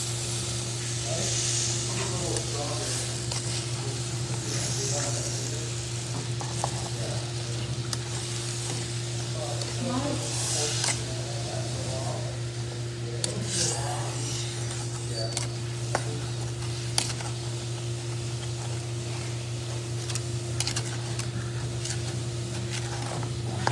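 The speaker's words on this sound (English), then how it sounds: "So I'll just keep on mixing all ingredients together." Butter, pecans, sugar and milk being stirred together in a hot pan for pralines, giving a continuous soft sizzling hiss with a low hum beneath, while a person talks over it throughout.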